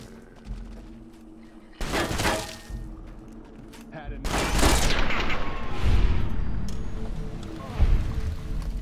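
Bursts of gunfire from Fallout: New Vegas, a first sharp volley near two seconds, then heavier overlapping shots and impacts from about four seconds on, with a loud final crack near eight seconds.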